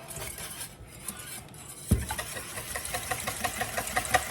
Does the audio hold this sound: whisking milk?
yes